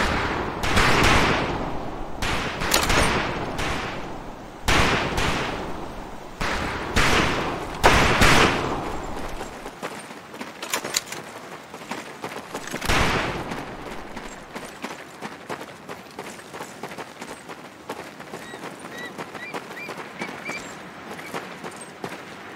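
Rifle fire at shooting practice in Medal of Honor: Pacific Assault, a rapid string of loud sharp shots at first, then sparser single cracks over a quieter outdoor background.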